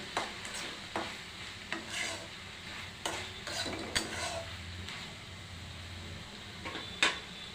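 A pinch of turmeric is stirred into a simmering tomato curry, giving repeated scraping and clinking spoon strokes against the pot over a soft background sizzle, close and steady, with no talking.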